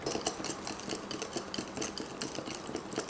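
A spoon stirs flour with vanilla and a teaspoon of salt in a bowl while making çörek dough, giving a steady run of close, rhythmic scraping strokes that continue throughout.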